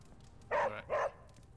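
Charlie, a dog in the Marvel Midnight Suns video game, gives two quick, close, loud barks in a row, with no voices over them.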